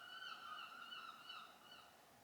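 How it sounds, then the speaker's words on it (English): Seagulls calling in a steady stream of wavering, overlapping cries that carry on without a break, fairly faint and at a distance, with no voices. "The seagulls are never going to be in my favourites videos."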